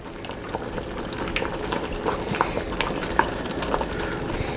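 Onions and bologna simmering in BBQ sauce in a pan: soft, irregular bubbling and small pops, close and fairly quiet, continuing steadily throughout.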